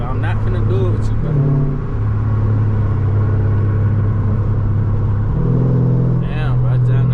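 Loud, steady exhaust drone from a fully straight-piped Dodge Charger Scat Pack under way on a freeway, holding a deep continuous rumble that climbs in pitch with each upshift.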